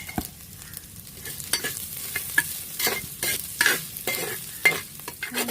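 Onions with a pinch of salt sauté in a pan for a Kottayam-style tuna curry, a soft continuous sizzle broken by repeated scraping stirs of a spoon against the pan.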